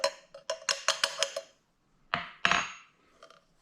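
Coffee being stirred in a pot, heard as a quick run of bright metallic clinks and taps, about seven in a row, then a pause and two louder scraping clatters, close and alone with no talk.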